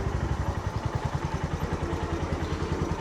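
A motorcycle engine idles close by with a steady low throb and slight clatter as the bike is parked on a road near Kodaikanal, no voices over it.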